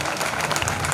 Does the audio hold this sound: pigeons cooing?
no